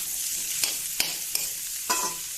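Vegetables fry in oil seasoned with panch phoron, asafoetida and a dried chilli on a new stove, giving a steady close sizzle broken by four sharp scraping stirs of a spatula.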